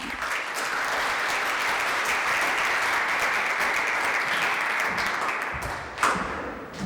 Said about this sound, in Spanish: les pido un aplauso, por favor, para ellos